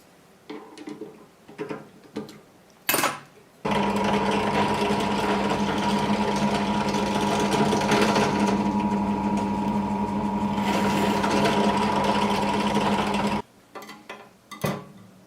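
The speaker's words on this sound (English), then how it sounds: "drilling some additional holes in this front plate" A drill boring holes in the metal front plate of a Visico VC100 LED light makes a steady mechanical whine with a strong hum for about ten seconds, starting and stopping abruptly, with clanks and knocks before and after.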